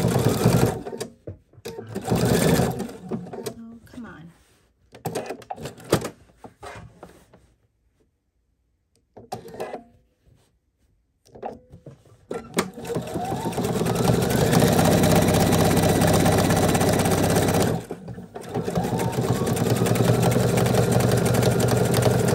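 Sewing machine stitching a blanket stitch around the edge of a quilt, loud close mechanical whirring in bursts with short stops, then a long steady run after a silent pause, with a few brief breaks.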